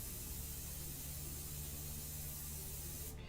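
An airbrush sprays paint for a portrait in India ink, giving a steady, close hiss that runs unbroken and alone, with a low hum underneath, then cuts off sharply just before the end.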